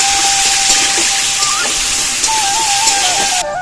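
Boiled jackfruit and potato hit hot oil with a bay leaf and tempering spices, giving a steady, loud hiss and sizzle that runs through the whole stretch without a break, with no talking.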